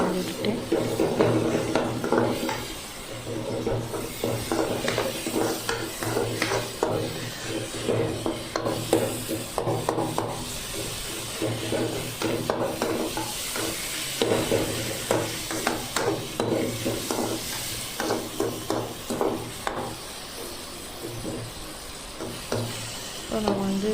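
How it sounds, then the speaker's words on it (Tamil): Mashed tomato masala for chicken curry is stirred in a hot pan, giving steady sizzling with repeated scraping and rubbing strokes while a person talks over it throughout. "இப்போ தக்காளி நம்மளுக்கு வந்து நல்லா மசிஞ்சிடுச்சு. நல்லா கிண்டி விட்டுட்டு"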